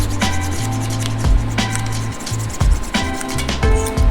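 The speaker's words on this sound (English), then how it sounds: "Take a razor blade, just scrape it all off." A razor blade scraping old gasket debris off the head mating surface of a Jeep 4.0 engine, giving repeated close rasping strokes over a steady mechanical hum.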